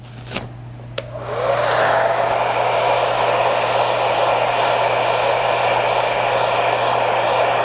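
A hair dryer heats interior film on a countertop: a couple of small clicks, then the dryer starts up and ramps into a loud, steady, close blowing roar that holds to the end.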